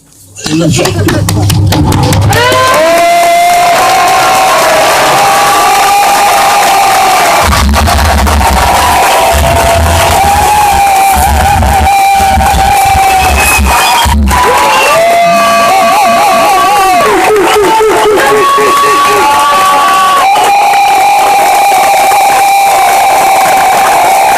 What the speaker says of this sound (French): Je vous demande, mesdames et messieurs, de faire un tonnerre d'applaudissements